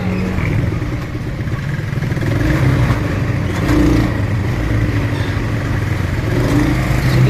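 A motorcycle engine runs and passes close by in a busy market in Imus, Cavite, a loud steady mid-pitched drone with slight revving over market clatter.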